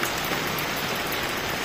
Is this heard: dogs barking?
no